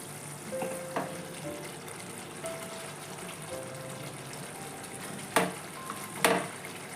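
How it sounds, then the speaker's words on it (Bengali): Mutton korma with papaya paste sautés in a covered pot, giving a steady soft sizzle with occasional clinks and a couple of louder knocks as the lid is lifted and the meat stirred. "মাংসটা কষানোর সময় মাঝে মাঝে ঢাকাটা খুলে ওটা নেড়ে দিতে হবে।"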